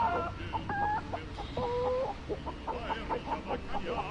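Chicken clucking in the space survival game Breathedge, a string of short clucks and bawks over a steady low hum, close and fairly loud.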